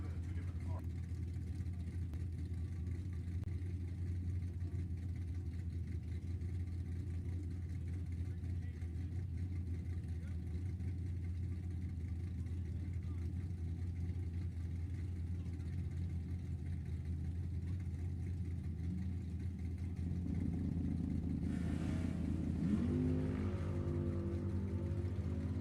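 Drag racing cars, including a 1991 Pontiac Firebird, at an NHRA E.T. bracket race: a steady loud engine drone throughout, swelling into harsher revving near the end, with an announcer talking over it.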